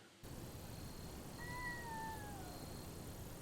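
A single thin, high kitten meow rises and trails off, faint over a steady background hiss.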